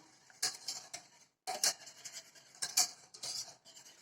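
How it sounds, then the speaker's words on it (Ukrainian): A spoon scrapes and clicks against a saucepan of thick cream as it heats, in short, irregular bursts of stirring, with brief pauses between strokes. "Крем прогрівається і час від часу ми його помішуємо, щоб він не пристав до дна."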